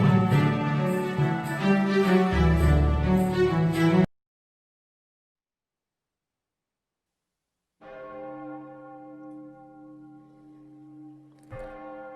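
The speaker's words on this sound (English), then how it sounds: "As the bell tolls" A church bell tolls in a staged radio drama of A Christmas Carol: a loud, dense ringing strike lasts about four seconds, then silence, then a softer sustained resonant tone hangs on before a faint tap near the end.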